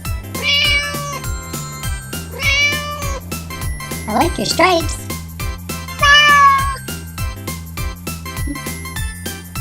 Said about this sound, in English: It's a little kitty.